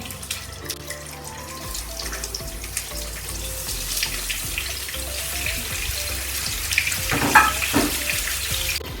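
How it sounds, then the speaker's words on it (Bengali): Leafy greens dropped into a hot pan with a little oil, giving a steady close sizzle and hiss that swells toward the end, with some clatter of utensils. "এখন আমরা শাকটিকে দিয়ে দিচ্ছি"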